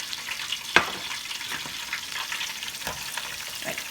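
Cheese curds frying in hot oil, a soft steady sizzle and bubbling crackle with a few brighter pops and stirring clicks, close and fairly quiet, no voices.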